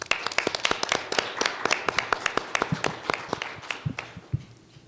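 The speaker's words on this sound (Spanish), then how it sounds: "Les pido un fuerte aplauso para él." A seminar audience gives a short burst of applause for a speaker, with distinct close claps in quick rhythm. The clapping thins out and fades over a few seconds.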